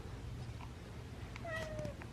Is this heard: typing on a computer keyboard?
no